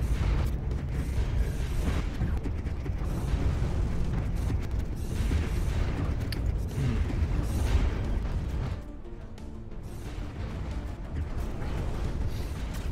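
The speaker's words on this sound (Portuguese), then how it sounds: "os cruzadores atirando lá do fundo" Space cruisers firing from the rear of a large fleet battle in Stellaris, a dense, continuous rumble of booming weapon fire and blasts that drops off briefly before resuming.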